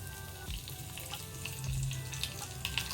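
Mustard seeds and curry leaves fry in hot oil for a cucumber oggarane, giving a faint, steady sizzle with a few small pops and no talking.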